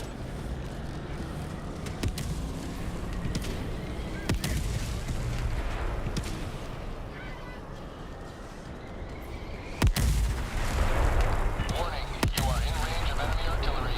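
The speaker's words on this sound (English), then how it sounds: "Warning, you are in range of enemy artillery." Enemy artillery fire in the Helldivers 2 video game on a Helldive difficulty mission, with sharp booming impacts around 2, 4.5, 10 and 12.5 seconds over a dense, rumbling battle bed of gunfire and chaos, loud and continuous.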